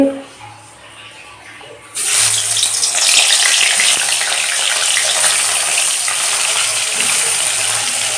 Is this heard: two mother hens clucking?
no